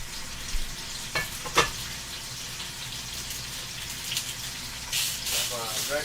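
Vegetables fry in a pan on a stove burner turned up high, giving a soft, continuous sizzle with a few sharp clinks and stirring scrapes, heard fairly quietly.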